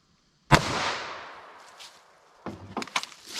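A single sharp gunshot from a short-barrel .22 Magnum fired into clear ballistics gel, loud and close, with a long decaying echo trailing off, followed later by faint clattering and handling noises.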